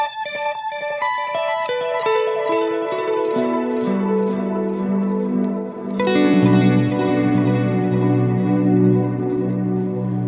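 Stacked delays timed to golden and silver ratios smear a sustained synth chord into a smooth, evenly swelling wash of echoes that builds and thickens partway through, heard alone with no voices.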